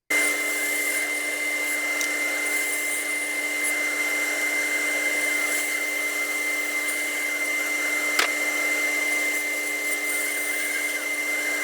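A machine runs with a steady high-pitched whine and broad whirring hiss, holding constant throughout, with one brief click partway through.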